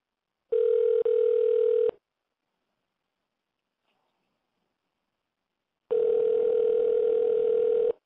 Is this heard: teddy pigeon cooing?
no